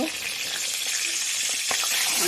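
Pointed gourd pieces hit hot oil in a pan for chal potol, producing a loud, even hiss and sizzle that stays steady and close throughout.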